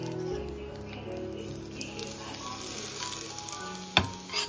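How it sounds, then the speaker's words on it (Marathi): Hot tadka tempering sizzles as it is poured into chutney, a steady crackling hiss with a sharp burst near the end, with some faint background sounds. "आपली तडका रेडी आहे। आता चटणीमध्ये टाकू,"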